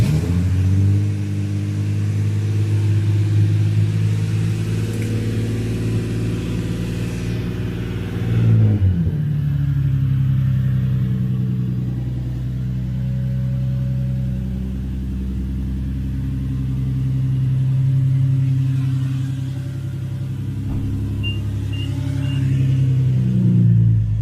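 A car with a VQ37VHR V6, freshly cleaned throttle body, starts with a sharp catch around a third of the way in. It then settles into a loud, steady idle with a few swelling revs, close by, with no voices.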